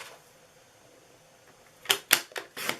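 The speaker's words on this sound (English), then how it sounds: "I'm going to grab my trimmer and I'm going to just cut this piece at 1 inch" A paper trimmer slicing a strip of craft paper for a gift card holder: a few sharp, close cutting swipes after a quiet pause, short crisp bursts near the end.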